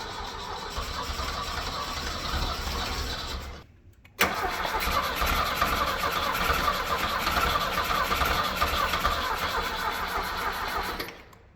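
A cheap, worn Mustang skid loader with a carburetor engine cranks hard in a long, loud, continuous churn. It breaks off briefly, then resumes cranking and half-firing for several more seconds without settling into a clean idle.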